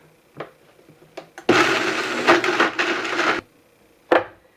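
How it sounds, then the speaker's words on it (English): Blender whirring loudly as it chops dates and dried figs for a raw chocolate fudge pie crust, one sustained burst of about two seconds between short knocks and clatter, then a brief final pulse. "Now it's time to blend."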